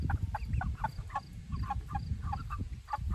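Large Cornish Cross chicks cluck and chirp in a steady string of short, repeated calls, close by and fairly quiet over a low background rumble.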